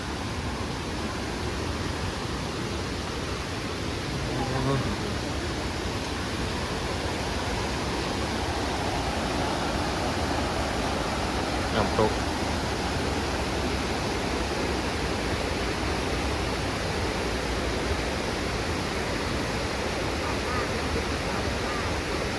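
Steady, dense roar of a waterfall in Nakhon Nayok, Thailand, heard up close as an unbroken wash of rushing water with no pauses for the whole stretch.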